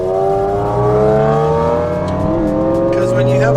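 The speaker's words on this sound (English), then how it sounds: "I thought I'd get some video of just listening to the Aventador from the point of view of the Huracan" Lamborghini Aventador engine roaring loudly and steadily, heard from a neighbouring Huracan, with rising harmonic revs that swell near the end over constant road rumble.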